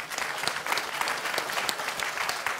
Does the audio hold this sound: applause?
yes